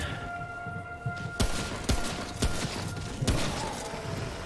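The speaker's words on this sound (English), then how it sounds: "Okay, I shot some thingies" Gunshots in Remnant: From the Ashes, four or five sharp, loud shots fired at irregular intervals about a second apart, each with a brief booming tail over steady game ambience.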